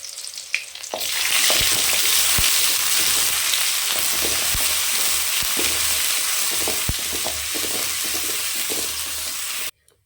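Ginger-garlic paste and curry leaves hit hot oil in a kadai for country chicken varuval, bursting into a loud, dense sizzle with scattered spatter pops that runs steadily until cutting off abruptly; no voices.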